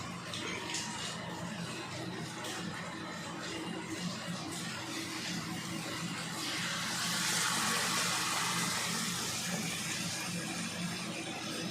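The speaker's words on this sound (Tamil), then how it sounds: "அடுத்து நம்ம ஃப்ரெஷ் க்ரீம் போட்டுக்கிறோம்." Fresh cream poured into a pan for a creamy Japanese-style chicken dish, a soft continuous liquid pour and gush that swells briefly louder midway, close by with no talk.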